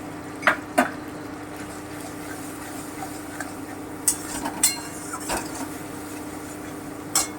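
A spoon stirring ginger paste and coriander powder in a pan while cooking egg korma, sparse faint clinks and taps against the metal scattered over several seconds above a low steady kitchen hum, with no talking.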